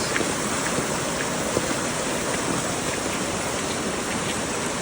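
Strong rushing water roars steadily throughout at Alitap Falls, Pagbilao, Quezon, Philippines, a dense, continuous wash of fast river current and waterfall, loud and close.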